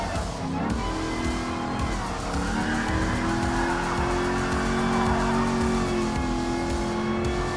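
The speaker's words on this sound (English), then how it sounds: "time to dash by on the Aston Martin and the BMW." An Aston Martin and a BMW race car in Gran Turismo Sport scream past at high revs with squealing, skidding tires, a loud continuous engine whine shifting pitch as they power through the track.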